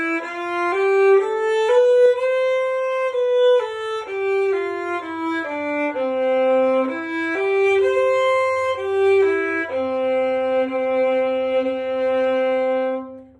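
A bowed string instrument plays a flowing melody with notes joined in smooth pairs, clear and close, moving stepwise before settling on a long low note.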